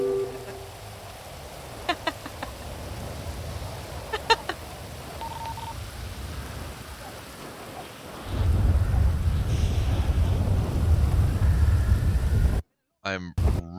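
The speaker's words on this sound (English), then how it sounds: "Oh no, it's raining." Rain and thunder in the FiveM video game, a soft hiss of rain with a few sharp cracks early on, then a heavier rumbling downpour swelling in partway through and continuing loudly.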